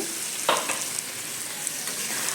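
Ladyfinger (okra) sambar mixture gets stirred in a hot pan, a close steady sizzle with a couple of brief scraping strokes near the start.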